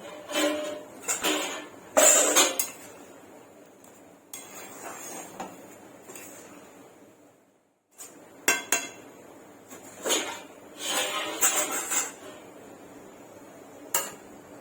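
Payesh rice pudding with cracked cardamom being stirred in a pot, a metal spoon scraping and clinking against the pot in close, uneven bursts separated by quieter pauses, with no talking.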